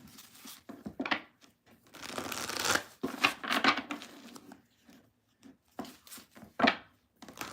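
A deck of playing cards being shuffled, with soft irregular riffles and crinkly bursts close by, separated by brief quiet gaps.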